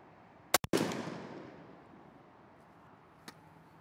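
Winchester SXP 20 gauge pump shotgun fires a crusher load at an outdoor pattern test: one loud, sharp blast with a quick echo and a long fading rumble, then a faint distant pop.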